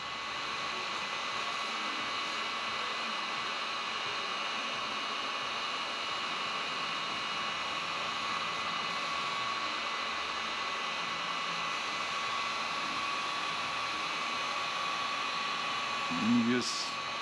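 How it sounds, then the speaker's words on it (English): A heat gun blows a steady, loud airy roar throughout while shrinking heat-shrink solder connectors on vehicle wiring, ending with a brief handling knock. "We use a heat gun and it melts the solder."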